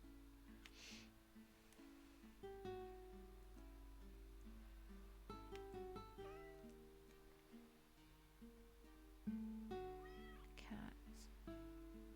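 Cats meow repeatedly in the video game Summer Paws, several short cartoonish mews scattered over a soft backing tune, with faint background sounds between calls.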